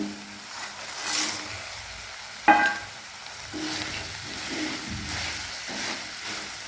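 Broken rice papad pieces dropped into spiced masala in hot oil, stirred as they fry: a steady close sizzle with a sharp clatter as they go in, then intermittent scraping while stirring.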